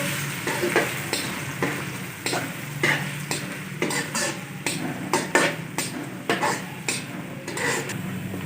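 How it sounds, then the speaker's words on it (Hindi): Steady sizzling of finely chopped onions frying in hot oil, with occasional stirring scrapes and clinks of a utensil against the pan, no talking. "हल्का सा गोल्डन कर लेंगे प्याजों को"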